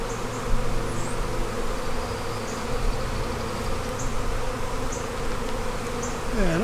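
Honey bees buzz densely around a bee yard during a hive inspection, a continuous close drone with individual bees whining past now and then.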